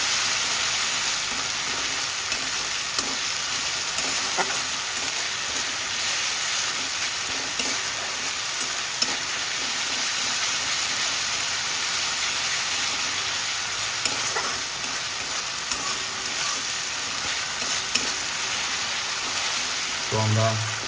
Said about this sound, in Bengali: তো আমরা ভালো করে মশলাটাকে কষবো